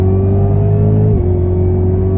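Supercharged 6.2-liter V8 in a Cadillac CTS-V idling loud and close, a deep steady rumble whose pitch dips slightly partway through, with no voices.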